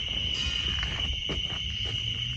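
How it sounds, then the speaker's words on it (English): A steady, high-pitched cricket drone fills the background continuously in a forest, with faint rustling underneath. "Like I hear crickets and stuff."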